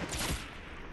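A burst of gunfire in the Fortnite battle royale video game, with loud, dense, overlapping shots packed into a single second and no talk.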